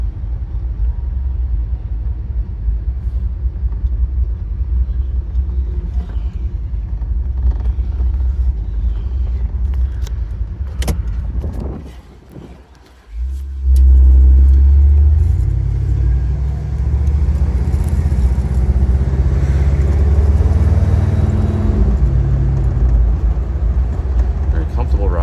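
A 1964 Chevy Impala SS convertible with its original 283 V8 starts and idles, a deep low rumble that drops out briefly and then returns louder and steady, with someone talking over it.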